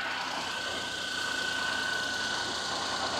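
A 2005 Maruti Alto car engine runs at a steady, even idle with a constant hum and faint vibration, close by and alone with no talking.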